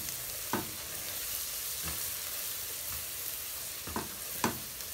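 Broth is stirred into spicy pasta in a pan, giving a steady sizzle broken by several distinct scraping stir strokes, close and fairly loud, with no talking.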